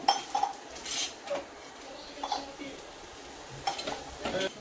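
A utensil scrapes and clinks faintly against a pan as spicy chapati noodles are lifted out, with a few light metallic taps spaced across a quiet kitchen background.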